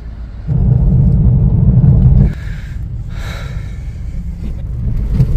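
Car engine rumbling loudly near the microphone while crawling along a long queue of vehicles in a traffic jam in Jammu, swelling briefly then settling to a steadier low drone.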